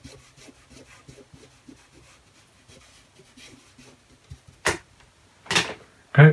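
Pastel rubbed over a velour drawing surface while shading a leopard's ear, a soft scratchy scuffing that runs low and steady, then three louder brushing sweeps near the end.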